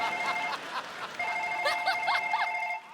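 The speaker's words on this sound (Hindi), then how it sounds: "और हमारा फोन वाइब्रेशन पे है।" A telephone rings on a comedy show stage: a steady electronic tone, then four quick warbling trills, clear and fairly close, with no talking over it.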